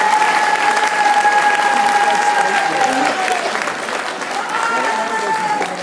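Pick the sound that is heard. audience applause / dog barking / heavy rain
audience applause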